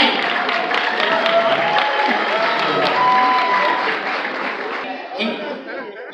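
An audience at a teachers' union event in a New York Hilton applauds and cheers a man being introduced, a broad wash of clapping with scattered whoops and laughter that thins toward the end.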